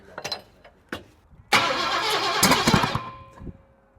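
A 1929 Ford Roadster barn find engine fires for the first time in 20 years, following a few brief cranking bursts, then catches and runs roughly for a couple of seconds before dying down.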